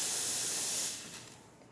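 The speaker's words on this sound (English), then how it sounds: "So for steam, it's water for the first couple seconds, and then you got a really good steam one on here." A La Spaziale espresso machine's steam wand blasts a loud, steady jet of steam that hisses close up for nearly a second, then drops to a softer, thinner hiss as the burst tapers off.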